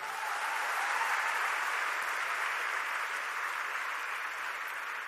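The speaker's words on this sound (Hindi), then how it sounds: "जितेश सर के लिए जोरदार तालियां।" Audience applause for an honoured guest at a program, a steady, even roar of clapping that holds at constant level for the whole stretch, with no voices over it.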